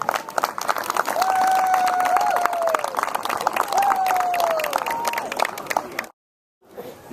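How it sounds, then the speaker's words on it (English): Crowd applause fills a high school football field at night during a 30th anniversary celebration at Bergen Field, a steady dense clapping wash running several seconds with a voice over it, then cutting off abruptly. "So just a round of applause for all of their hard work"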